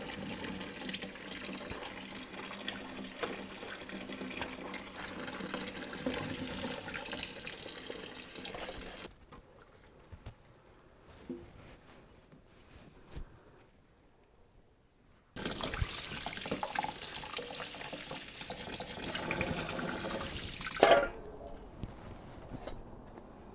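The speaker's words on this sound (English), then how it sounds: "So I'll rinse them off" Homegrown strawberries are rinsed outdoors under a running tap: a steady, fairly quiet gush of water, briefly cut off midway, then flowing again.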